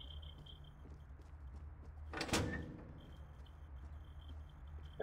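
A door opening in the video game Fortnite, a single sharp swooshing burst in the middle of a quiet steady hum, brief and close, with no talk.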